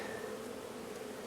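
A steady, low buzzing hum of many honey bees at a hive, continuous and fairly quiet, with no voices.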